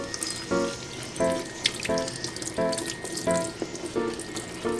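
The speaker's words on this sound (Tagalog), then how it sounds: "Huhugasan na natin yung sambong." Sambong leaves washed under a running kitchen tap: steady splashing water with rhythmic sloshing pulses as the leaves are handled, close and fairly loud, no talking.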